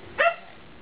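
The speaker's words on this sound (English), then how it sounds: "You gonna bark for me?" A single short dog bark, sharp and close, standing out alone against a quiet background.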